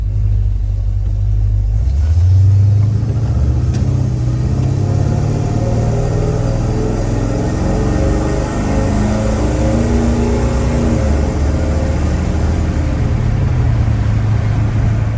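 Square-body Chevy truck fitted with FiTech EFI pulling away on a road test, a loud, close engine rumble rising in pitch as it accelerates, then holding a steady drone.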